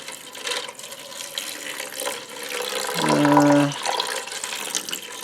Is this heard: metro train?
no